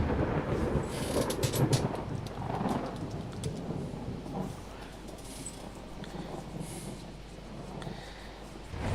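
A thunderstorm rolls through a naval battle in Ultimate Admiral Dreadnoughts, with rumbling thunder and heavy rain hissing steadily, loudest early and easing into a constant downpour.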